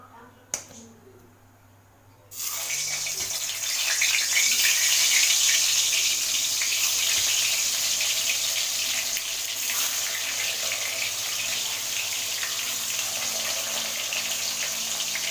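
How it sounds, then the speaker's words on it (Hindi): Marinated brinjal slices dropped into hot refined oil in a wok, setting off a sudden loud, steady hiss and crackle of frying that continues close by, after a quiet start with a couple of small clicks. "तेल अच्छे से गर्म हो चुका है। अब उसमें मैं डाल दूँगी ये बैगन।"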